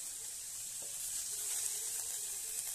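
Onions sizzle steadily in a hot pan while cooking down for a mushroom curry, a constant bright frying hiss with a few faint stirring clicks, close and alone without talk.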